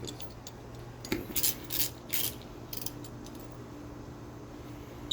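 Metal bolt threads being cleaned out on a Dodge Ram 1500 front bumper with winch plate, heard as a few quiet ratcheting, scraping clicks in short bursts over a low steady background hum.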